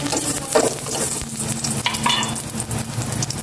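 Garlic sautés in hot cooking oil, a steady close sizzle and crackle with occasional stirring scrapes running the whole time, with no voices.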